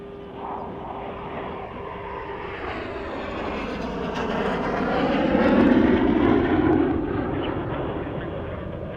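NASA's X-59 quiet supersonic research jet passes on approach near a runway, a broad engine roar that swells toward the middle and then eases slightly, heard alone at a steady distance.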